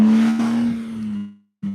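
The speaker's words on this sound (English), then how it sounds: "Some noisy cars." A car on a road roars past close by with a steady engine whine that fades away, followed by the start of another vehicle approaching.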